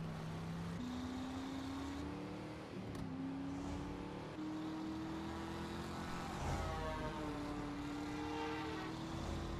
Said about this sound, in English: assist officers under fire from a goddamn news chopper